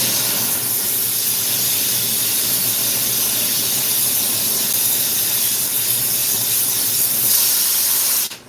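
A glassblowing torch roars with a steady, loud hiss as it flashes a glass pipe while an inside-out chillum is made, running continuously for several seconds before cutting off abruptly at the end.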